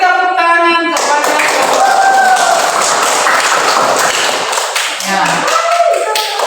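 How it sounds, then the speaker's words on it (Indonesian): A group in a classroom breaks into sustained clapping that stays loud and dense for several seconds, with a brief spoken word at the start. "kita beri tepuk tangan kepada"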